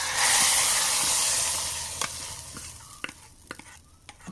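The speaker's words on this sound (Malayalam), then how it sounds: "ഇപ്പം നല്ലപോലെ നമുക്ക് ഇളക്കി കൊടുക്കാം." Kerala-style chickpea curry thickening in a pan: a soft bubbling sizzle that fades, then several scattered spoon scrapes and knocks against the pan, close and clear without speech.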